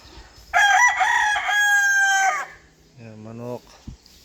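A rooster crows loudly and close by in one long, strained call, followed by a shorter, lower crow or cluck and a faint thump.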